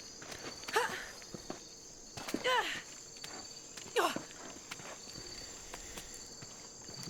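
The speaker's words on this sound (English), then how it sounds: "these crickets are very loud" Loud, steady jungle crickets in the video game Shadow of the Tomb Raider trill continuously and at high pitch, while bursts of a nearby voice and a few soft thuds sound over them.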